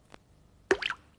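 A single cartoon-style raindrop plop lands with a short, wet, bouncy pop, preceded by a faint tiny tick, then quiet.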